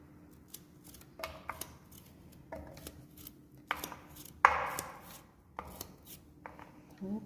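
A knife chops watermelon rind on a board for jam, making a series of close, crisp cutting thuds and snips at an irregular pace, with one louder scraping cut midway.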